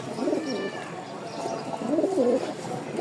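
Rajshahi giribaz pigeons coo in a loft, their low rolling calls rising and falling in two clear phrases over a steady hiss of background noise.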